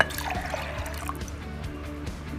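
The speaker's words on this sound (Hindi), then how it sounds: "अब इसमें पानी डाल देते हैं।" Water is poured into a pressure cooker holding chana dal in a home kitchen, a faint, steady trickle and splash that runs throughout.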